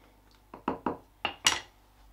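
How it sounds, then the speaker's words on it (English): A lid goes onto an aubergine and rice dish in five quick, close clanks and knocks of metal and glass cookware, the last the loudest, with no speech. "Lid on"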